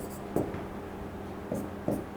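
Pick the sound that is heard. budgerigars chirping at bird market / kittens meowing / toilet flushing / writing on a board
writing on a board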